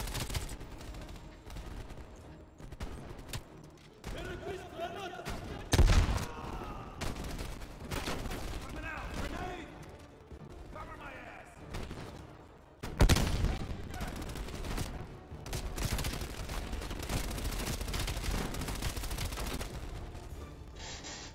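Gunfire in the video game Call of Duty: Black Ops Cold War, with repeated bursts of shots, loud impacts and sustained rattling fire throughout, under occasional voices.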